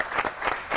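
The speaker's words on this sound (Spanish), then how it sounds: "un fuerte aplauso para estas ciclistas" Brief applause for women cyclists during a Vuelta Ciclista Femenina broadcast, a short soft patter of clapping in three small waves lasting under a second.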